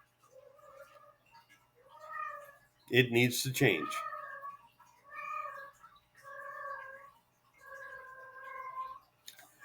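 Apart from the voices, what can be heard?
cat meowing and caterwauling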